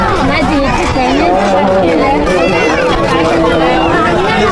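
Dense crowd bustle at the Kunkeshwar temple fair, many overlapping voices and chatter filling the space at a loud, constant level, with people talking close by.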